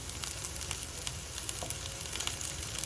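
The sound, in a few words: onions frying in a skillet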